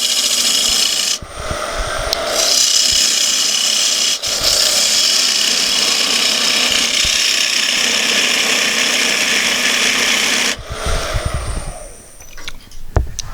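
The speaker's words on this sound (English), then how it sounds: "now I'm going to take a pass in to start making the tenon for the chuck" Wood lathe turning a bowl blank as a gouge cuts a tenon for the chuck, a loud continuous scraping rasp that runs steadily, with short breaks near the start and a softer ragged tail as the cut eases off.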